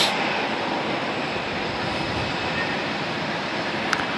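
A Frontier airliner at Raleigh-Durham International Airport gives off a broad, steady jet roar, loud and even throughout, with a faint tick near the end and no talking.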